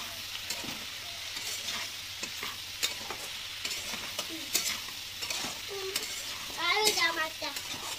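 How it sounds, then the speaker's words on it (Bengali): Fish and turmeric are stirred in a hot frying pan for a fish and cucumber curry, with a continuous sizzle and spatula scrapes, light utensil clinks and a brief voice in the background near the end. "আর দেবো হলুদ, এবার এগুলো একটু নাড়াচাড়া করে নেবো ভালো করে"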